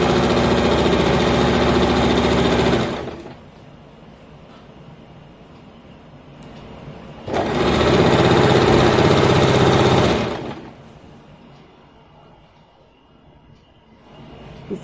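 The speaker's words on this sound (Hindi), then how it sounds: "उसके बाद इस तरह आपस में मिला करके इस तरह इसकी सिलाई कर लीजिए।" Sewing machine stitching Afghani salwar fabric runs in two bursts of about three seconds each, a close, steady mechanical whir separated by a quiet pause.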